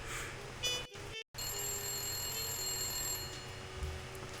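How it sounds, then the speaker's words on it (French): A telephone rings in the Blacksad video game, a thin electronic ring repeating under a low ambient hum, briefly cut by a silent gap. "Je pensais que le coup de téléphone allait s'arrêter si je choisissais de pousser le canapé."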